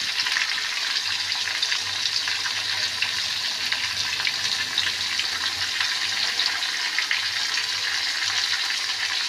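Green chilies frying in oil in a pan while making a papaya and potato fish curry, giving a steady, loud, continuous sizzle with no talk over it.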